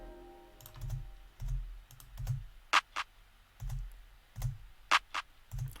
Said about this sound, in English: but then I added some little accent claps here,